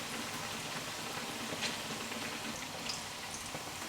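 Orange and ricotta fritters frying in hot oil, a steady close crackle and bubbling hiss with small pops scattered through it.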